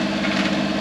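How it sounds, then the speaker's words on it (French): A sailboat's engine running steadily after being restarted, a continuous dense drone with no pauses or voices over it. "J'ai redémarré le moteur là pour faire une pause"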